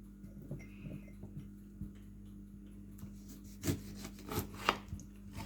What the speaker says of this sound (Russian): И опять по новой в баночку режем лимончик.